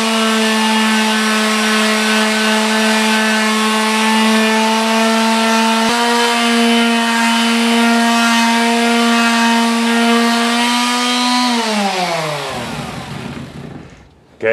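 A power sander fitted with 150 grit sandpaper works a large steel sword blade, giving a loud, steady motor whine that drops in pitch once partway through, then winds down and stops near the end.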